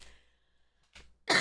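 A single short, harsh cough bursts out loudly at the end, preceded by a softer throat-clearing rasp and breathy noise in an otherwise quiet room late at night.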